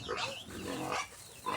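A pig on a farm grunts and snorts in a few quick, close bursts, faint and without talk over it.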